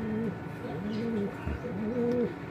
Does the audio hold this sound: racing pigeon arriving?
yes